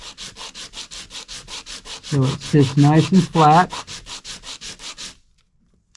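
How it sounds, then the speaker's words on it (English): Rhythmic back-and-forth sanding on wood, about twenty quick strokes at a steady pace, with someone speaking briefly partway through before the rubbing stops. "Sand it down just a hair."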